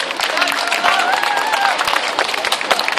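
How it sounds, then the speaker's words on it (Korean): Audience applause at an outdoor street talk event on national security, a steady patter of clapping from a modest crowd with a voice briefly heard over it. "박수 부탁드립니다."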